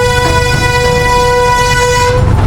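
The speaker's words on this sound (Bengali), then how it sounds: "বাম্পার জিনিস কিন্তু ট্রেনের হুইসেল দিচ্ছে এখানে" A toy train in Cubbon Park, Bangalore, sounds its whistle as a loud, steady, multi-toned blast that holds for over two seconds over low rumbling background noise.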